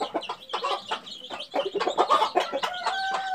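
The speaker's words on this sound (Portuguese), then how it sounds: "Ainda tem essa galinha, ó, galinha de pinto aqui, tá presa e recebeu também a ração." Chickens, including a penned hen with chicks that has just been given feed, cluck repeatedly and close by in quick overlapping bursts, with no talk over them.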